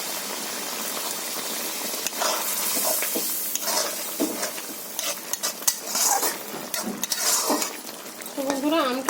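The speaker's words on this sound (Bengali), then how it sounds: "ভেজে রাখা চুনো মাছটা আমি তরকারির মধ্যে দিয়ে দিচ্ছি।" Fried small chuno fish being stirred into a curry in a pan, with steady clattering of a spatula against metal and light sizzling throughout, plus a few sharper knocks near the end.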